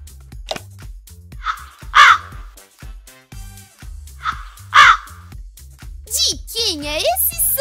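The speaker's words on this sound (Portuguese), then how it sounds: "Esse é o som do corvo!" Several loud crow caws ring out in separated bursts, with a voice and other speech between them.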